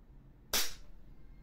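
A single sharp shot from a KJ Works CZ Shadow 2 airsoft pistol, one loud crisp crack with a brief tail, standing alone against quiet background.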